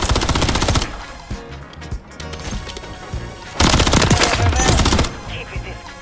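Dense video game gunfire from players shooting bots in a sniper match, with rapid automatic bursts and sharp single shots crowding most of the clip, loudest in a sustained volley near the end, with faint background voices.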